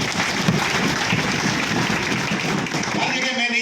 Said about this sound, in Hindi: एक बार जोरदार तालियां राजस्थान का।